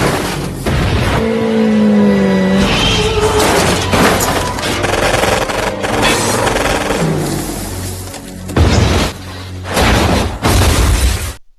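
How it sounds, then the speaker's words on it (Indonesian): A car in the Punisher film is riddled with bullets until its tire goes flat and it rolls over, with a loud barrage of gunfire, crunching metal crashes and shattering impacts over a tense music score. "anak buah John terus-terusan menembaki mobilnya hingga ban kempes dan membuat mobil terguling"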